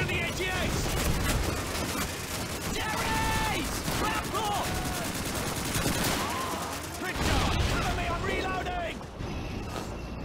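Dense gunfire and explosions in Call of Duty 2, with rapid machine-gun bursts and heavy booms around a friendly tank in a Tunisian battle, loud and continuous with voices shouting over it.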